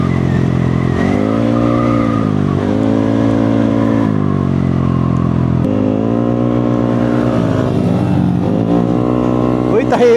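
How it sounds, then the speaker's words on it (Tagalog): A motorcycle engine runs steadily throughout, its tone rising and falling with throttle changes, loud and close. "Tahimik ngayon yung motor niya."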